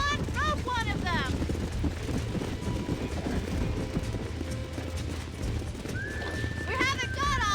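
Wild horses in Red Dead Redemption gallop with rapid thudding hoofbeats while several shrill neighs and whinnies ring out near the start and end, and a voice speaks over them.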